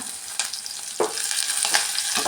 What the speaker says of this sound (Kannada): ಚೆನ್ನಾಗಿ ಥರ ಫ್ರೈ ಮಾಡ್ಕೊಳ್ಳೋಣ ಫ್ಲೇಮು ಮೀಡಿಯಮ್ಮಲ್ಲಿ ಇಟ್ಕೊಳ್ಳೋಣ